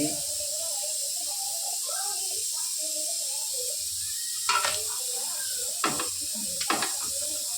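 Small vadas fry in hot oil with a steady soft sizzle and hiss, broken by a few brief sharp crackles and stirring sounds. A person speaks over the frying.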